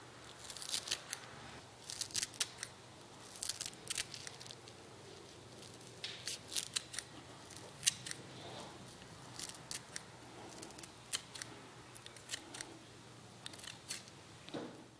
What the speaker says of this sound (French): Coupez à l'aide de ciseaux la ciboulette en petits morceaux